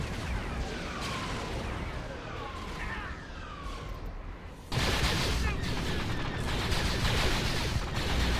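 Continuous blaster fire from Separatist tanks and droids in the Star Wars Fall of the Republic game, a dense battle rattle that swells louder midway, with streaking laser zips and voices beneath.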